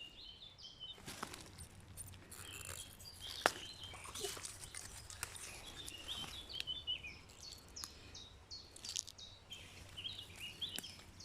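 Birds sing outdoors in a field in France where wild asparagus grows, faint and distant, with scattered chirps and soft rustling footsteps under steady background ambience.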